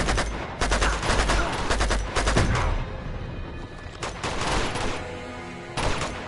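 Gunfire in the Uncharted 2: Among Thieves action game, with loud rapid bursts of shots that come in waves over a noisy battle backdrop and no speech.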